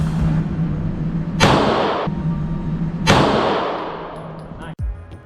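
Two sharp handgun shots ring out at a shooting range, each a loud crack followed by a decaying echo, with a low steady hum underneath and a dull thump near the end.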